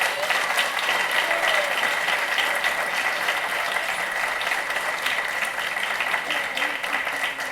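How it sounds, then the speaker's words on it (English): An audience claps steadily and continuously throughout at a Sunday festival program, a dense even applause heard from within the crowd. "your claps go a long way through our sensitive ears"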